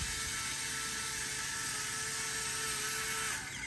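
Two Furitek Micro Komodo RC crawlers on 2S in low gear, one with a cheap motor upgrade, run together with a thin, steady electric whir and faint gear whine that holds, then drops off at the end.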